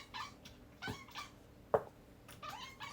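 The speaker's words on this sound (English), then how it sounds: "Do you hear the cat?" A cat gives a few short, faint meows indoors, with one sharper cry partway through, heard against quiet room background.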